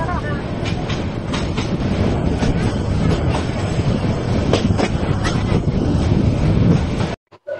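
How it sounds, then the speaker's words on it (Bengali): The Paryatak Express intercity train from Chattogram to Cox's Bazar in Bangladesh runs on its tracks with a loud, steady rumble and rhythmic wheel clatter heard from on board, cutting off abruptly near the end. "আন্তনগর পর্যটক এক্সপ্রেস চরম লেভেলের স্মুথ।"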